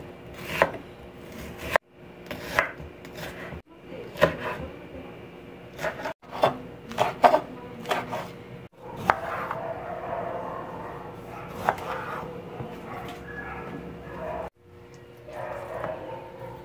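A knife chops onion, pepper and tomato on a board for an Amazonian fish stew, giving sharp, fairly regular knocks with brief pauses between bursts and a faint background hum.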